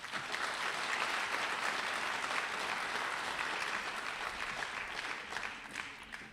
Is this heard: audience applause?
yes